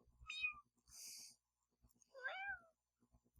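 A person imitates a kitten with two high, squeaky meows separated by a breathy hiss-like sound, close and fairly quiet.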